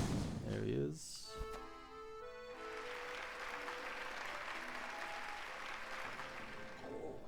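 Crowd applause in the Hollow Knight game's Grimm Troupe circus tent rises after a brief musical flourish and continues steadily at low level.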